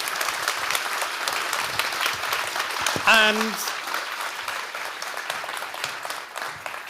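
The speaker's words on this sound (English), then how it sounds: "I want to say a big round of applause" Steady applause from a conference audience after a talk fills the room throughout, with a brief spoken word cutting in partway through.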